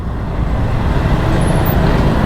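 Heavy road traffic surrounds a TVS Jupiter scooter stuck in a queue, a loud, dense and continuous rumble of engines and roadway noise with no pauses.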